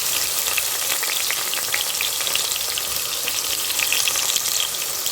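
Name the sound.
onions sautéing in a pan for chicken curry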